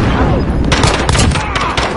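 Rapid bursts of gunfire from the video game Warzone, a dense fusillade of shots that intensifies after the first moment and keeps cracking loudly throughout, with brief player voices underneath.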